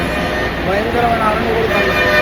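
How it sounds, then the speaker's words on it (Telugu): Buses at a busy bus stand sound their horns, loud overlapping tooting tones blaring continuously over crowd and engine noise close by. "భయంకరమైన హారన్లు కొడతాయి."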